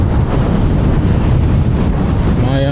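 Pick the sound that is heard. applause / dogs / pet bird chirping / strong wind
strong wind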